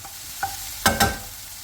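Mushrooms, artichokes and asparagus cooking together in a pan, with a short stir and two quick sizzling scrapes over a quiet low background.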